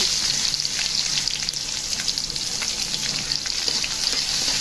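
Chopped onion hitting hot soybean oil over lightly fried garlic, a steady dense sizzle with crackling pops and occasional stirring, close and continuous with no talking.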